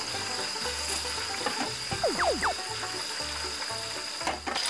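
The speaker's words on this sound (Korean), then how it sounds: "펄펄 끓는 기름에 퐁당." Oil sizzles and crackles steadily as battered shrimp fry in boiling oil, with a low rhythmic hum beneath and a few brief clinks near the middle.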